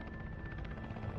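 A helicopter's rapid, steady rotor thumping with a constant whining tone, fairly distant and continuous throughout, during the final days of the Vietnam War.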